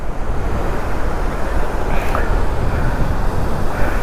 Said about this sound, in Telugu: తంతడి బీచ్.